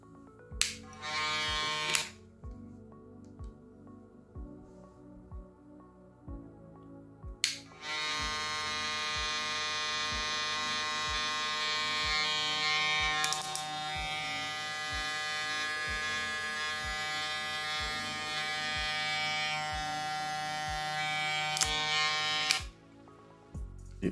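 A Wmark NG 9002 electric hair clipper switches on briefly, cuts off, then runs continuously with a steady high-pitched motor buzz and whine for about fifteen seconds before stopping, close and alone.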